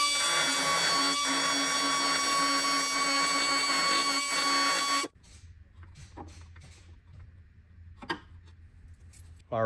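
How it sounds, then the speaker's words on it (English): A carbide die grinder whines steadily at high pitch while cutting an oil pan baffle, loud and continuous for about five seconds before cutting off abruptly, leaving scattered clinks and handling noises. "So I'm going to start grinding with that little carbide die grinder piece."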